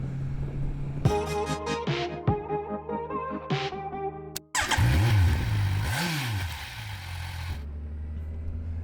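A Kawasaki Versys 1000 adventure touring motorcycle revs hard through quick-shifted gears, the engine note climbing and dropping in steps, then a loud close surge of engine and wind roar as it rides on, no voices.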